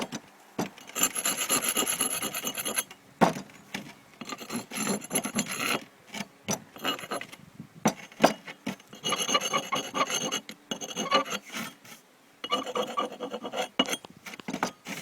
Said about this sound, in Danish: så gør jeg en ren for beton, eller mørtel